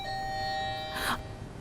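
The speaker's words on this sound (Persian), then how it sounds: "دروازه، زنگ دروازه است نی؟" Doorbell ringing indoors, a sustained electronic chime tone followed by a brief brighter burst, fairly clear and close over quiet room noise.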